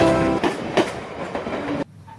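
A train rolls past on a railway near the Hooghly river in Kolkata, loud and close with rhythmic clickety-clack wheel beats over a broad rumble, cutting off abruptly near the end.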